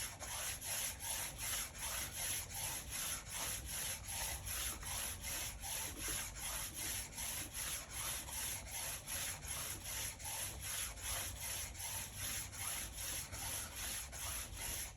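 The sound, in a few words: speed skate blade sharpened on a finer polishing stone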